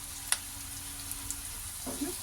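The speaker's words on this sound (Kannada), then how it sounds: "ಈರುಳ್ಳಿ ಎಲ್ಲ ಫ್ರೈ ಆದಮೇಲೆ ಜೀರಿಗೆ ಹಾಕ್ತಾ ಇದ್ದೀನಿ ಈಗ ಇದಕ್ಕೆ ಸ್ವಲ್ಪ ಅರಿಶಿನ ಆ್ಯಡ್ ಮಾಡ್ತಾ ಇದ್ದೀನಿ" Onions fry in hot oil with cumin and turmeric added for poha, a soft, steady sizzle close by with one sharp tick early on.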